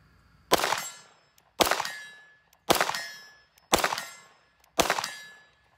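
CZ P-10C pistol fire at a steel target, five evenly spaced shots, each a sharp crack followed by a ringing clang that slowly decays, moderately distant and with no talking.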